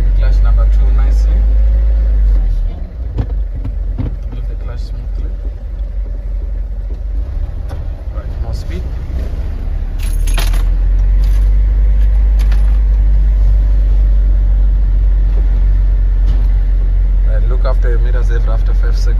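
A truck engine runs steadily through reverse and alley docking practice, a loud continuous low rumble with slight revving changes, while an instructor's voice talks over it.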